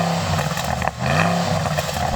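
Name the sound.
Porsche Cayenne Turbo engine revving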